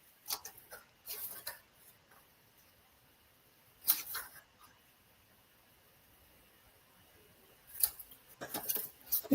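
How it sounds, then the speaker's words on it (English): Scissors snipping pieces out of a small paper gift-card bag along its score lines. Short bursts of crisp, close snips are separated by quiet pauses. "so let me grab my scissors. And we are just going to snip all of these out"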